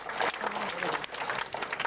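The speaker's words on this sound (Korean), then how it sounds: "나와 수고해 주신 분을 위해서 박수 한번 좀 주십시오." Short spell of audience applause at a Korean herbal-medicine health lecture, moderately loud and uneven, with a voice talking over the clapping.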